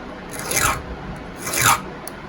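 A file rasps across the teeth of a semi chisel chainsaw chain in two distinct close strokes, each a bright scraping sweep with a short pause between.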